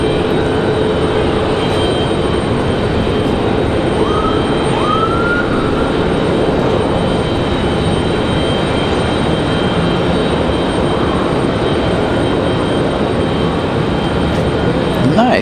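An Alaska Airlines airliner arriving from Seattle at Raleigh-Durham airport, a loud steady jet roar filling the whole span with a faint rising whine partway through.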